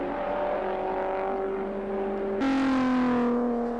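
Racing sports cars, including a Caterham, battle on track, with a steady engine whine that jumps in pitch and loudness as a car passes close, heard without talk.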